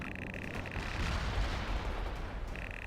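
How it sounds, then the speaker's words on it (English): Sustained battlefield rumble from World in Conflict, with deep artillery booms and gunfire rolling together into a continuous heavy roar, steady and loud throughout. "We're under fire."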